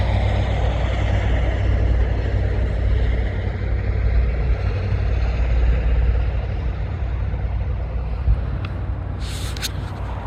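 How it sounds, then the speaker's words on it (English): An old Model T style truck runs nearby with a steady low engine rumble that holds throughout, and a couple of faint clicks come near the end. "it's like a Model T style truck"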